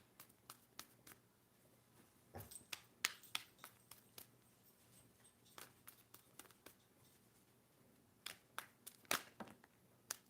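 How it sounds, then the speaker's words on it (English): Quiet, scattered snaps and light slapping clicks of tarot cards being shuffled, with brief pauses between bursts and a few louder riffles near the end. "and we are going to shuffle the cards"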